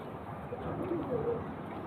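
Cooing from very old-generation pigeons, one with an eye problem, comes as soft low murmurs over a steady background hum, close and continuous.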